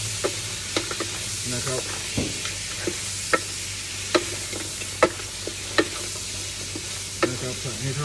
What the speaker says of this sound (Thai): ผัดกับเนยกับกระเทียมให้เข้ากันก่อน